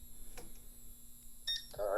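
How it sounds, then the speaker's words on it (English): A fire alarm test board gives brief electronic beeps, a short tone burst mid-clip followed by a louder sustained warbling tone at the end, over a low steady hum in a quiet room. "Why does this keep beeping?"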